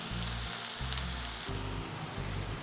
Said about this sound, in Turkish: Soğanlarım da bu şekilde kavruldu bu kadar kavrulması benim için yeterli.